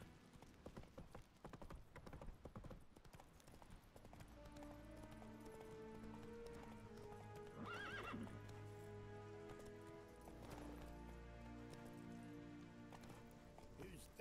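Horse from The Witcher 3 game, a loud whinny and neigh over rapid clip-clop hoofbeats of a galloping run, with a voice speaking briefly at the start.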